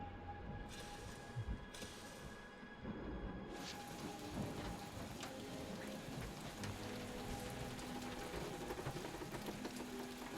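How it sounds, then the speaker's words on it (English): Steady rain falls in the Guardians of the Galaxy video game, a dense, continuous patter with a brief hiss-heavy burst near the start, evenly loud throughout and without talk. "Peter Quill is dilly-dallying in the rain."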